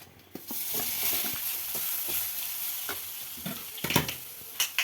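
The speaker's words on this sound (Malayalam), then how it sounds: "ഇനി നമുക്ക് അരപ്പ് ഇതിൻ്റെ അകത്തേക്ക് ഇട്ട് നന്നായിട്ട് ഇളക്കി എടുക്കാം" Ground spice paste is stirred into a mushroom stir-fry in a pan: a constant, moderate sizzle is broken by repeated spatula scrapes and clicks against the pan, with a few louder knocks near the end.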